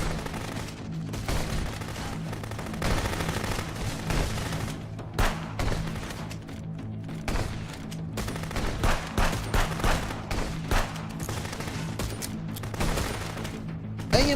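Steady, dense gunfire in a war video game, rapid bursts and volleys rolling on for the whole stretch over a constant background hum, loud and close without a break.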